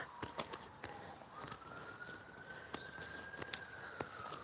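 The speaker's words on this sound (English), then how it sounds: "hear sirens there in the background now" A distant siren wails with a slowly rising pitch, faint under scattered footsteps and light tapping noises nearby.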